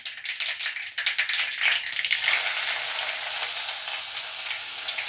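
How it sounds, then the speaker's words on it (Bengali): Mustard seeds crackle and pop in hot oil with scattered sharp bursts, then a dense, loud, steady sizzle takes over as onion goes into the pan, continuing without any talking. "সর্ষেটা ভাজা হয়েছে, ফুটছে।"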